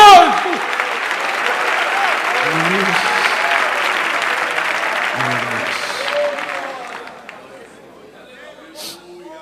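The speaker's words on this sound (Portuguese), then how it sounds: "Se você crê nisso, aplauda ao Senhor" A church congregation bursts into loud, sustained clapping mixed with cheering and chatter, then the applause gradually thins and fades away.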